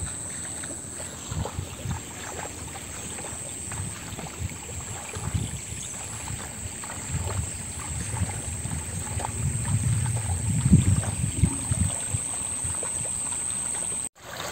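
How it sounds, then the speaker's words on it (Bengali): Rising village floodwater spills over and rushes past, a continuous low rumbling wash that swells toward the end, with wind buffeting and no speech. "তো বন্যার পানি শুধু বাড়তেই আছে, দেখেন এই যে এখন বাইরের উপরে দিয়ে বাইরে উপচায় পানি যাইতেছে"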